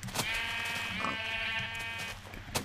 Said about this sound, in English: It's like a symphony of sheep.